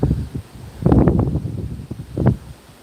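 Strong hurricane winds during Hurricane Helene in Lakeland thrash through trees. The leaves rustle loudly in surging gusts, with a big roaring burst near the middle and another toward the end, and the microphone picks up wind buffeting.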